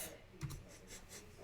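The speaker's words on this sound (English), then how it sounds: "see here I'm typing" Soft, quick key clicks from a computer keyboard being typed on, a faint, close patter of several taps in an irregular rhythm with no talking.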